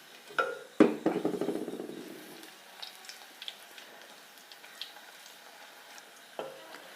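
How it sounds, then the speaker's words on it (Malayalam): Tamarind dropped into hot coconut oil in a pan gives a sharp clatter and a burst of sizzling that fades over a couple of seconds, followed by quiet, sparse kitchen clinks and a final soft knock. "ഇനി നമ്മൾ എടുത്തു വെച്ച ഈ പുളിയെ ചെറുതായിട്ടൊന്ന് വെളിച്ചെണ്ണയിൽ ചൂടാക്കി എടുക്കണം."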